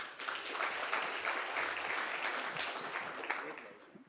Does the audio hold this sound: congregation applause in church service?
yes